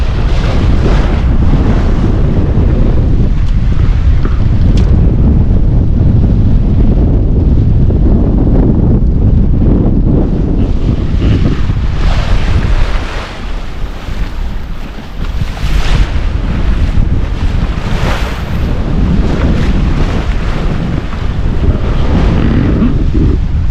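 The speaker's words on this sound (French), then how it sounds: "Là, il y a des vagues, mais c'est rien." Wind and ocean waves surge around a sailing boat at sea during a transatlantic crossing. The roar is loud and close, with heavy wind buffeting the microphone and a brief lull midway before the waves and gusts build again.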